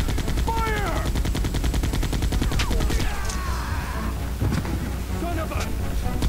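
Rapid gunfire rattles in Resident Evil 2, a dense machine-gun stream of shots running through the whole stretch under shouted voices and pitched creature or effect sounds.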